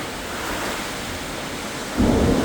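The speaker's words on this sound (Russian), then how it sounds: "на Ростов надвинулся сильный шторм" Strong storm sweeping over Rostov-on-Don, with squally wind and heavy rain: a steady, dense roar of rain and wind fills the whole stretch, swelling into a louder low rumble of thunder near the end, with no voices.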